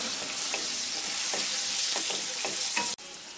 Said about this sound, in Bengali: এখন এগুলোকে বাদামি করে ভেজে নেব।